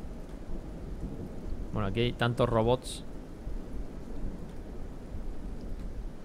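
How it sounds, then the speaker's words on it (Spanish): Steady rain and rumbling thunder in the video game Kenshi form a continuous stormy wash throughout, with someone speaking briefly over it partway through. "¡Lluvia!"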